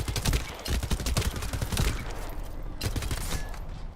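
SMG fire in the shooter The First Descendant rattles in rapid, dense bursts, loud and close, with a brief lull and then more shots.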